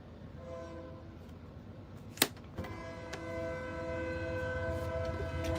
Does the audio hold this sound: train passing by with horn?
yes